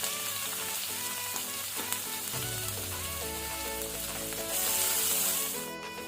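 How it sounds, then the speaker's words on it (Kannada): Sliced onion sizzles steadily in two tablespoons of hot cooking oil, a soft continuous frying hiss with faint background tones and no voices. "2 ಟೇಬಲ್ ಸ್ಪೂನ್ ಎಣ್ಣೆ ಬಿಸಿಯಾದ ನಂತರ 1 ಈರುಳ್ಳಿ ಹಾಕೋಣ"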